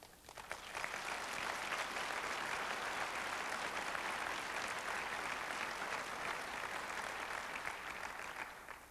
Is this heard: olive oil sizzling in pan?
no